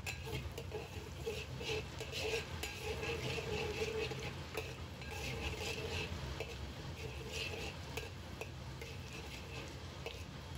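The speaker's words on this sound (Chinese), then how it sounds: "把油温烧到七成热时，把蒜末、干辣椒放入到锅中爆香" Minced garlic and dried chilies sizzle in very hot oil in a wok, a steady, fairly faint crackling hiss that runs unbroken without any voices.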